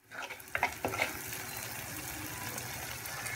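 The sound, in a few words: masala with onion frying in oil, stirred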